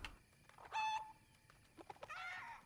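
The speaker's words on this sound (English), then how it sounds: "The chicken has escaped." A chicken in Fortnite, faint short clucks and squawks in a few quick bursts against quiet game background.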